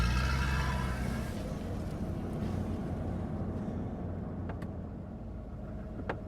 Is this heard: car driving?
yes